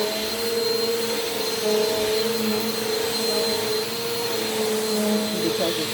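A Bissell PowerForce Compact Turbo vacuum cleaner runs steadily on dirty carpet, its close, loud motor whine holding a constant tone throughout with slight shifts as it moves.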